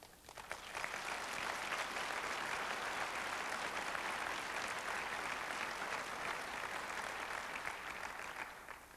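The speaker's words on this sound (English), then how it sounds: "they're clapping and laughing on their time" A crowd at a 1997 Urban League presentation breaks into sustained applause, dense steady clapping that swells in and holds for several seconds, loud and fairly close, with no talking over it.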